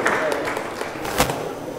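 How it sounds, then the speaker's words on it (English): Wedding guests applaud with a brisk patter of clapping while voices talk over it at moderate volume. "Oh, clap for her, clap for her"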